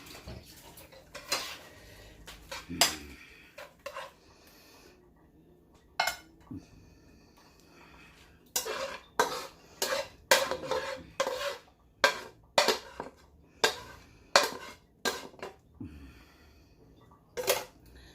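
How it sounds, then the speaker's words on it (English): Spoon scraping and clinking against a dish while an apple mixture is scooped out, with a run of sharp, close taps and scrapes in irregular bursts and a quiet pause between. "I'm just going to take my nice little apple mixture here"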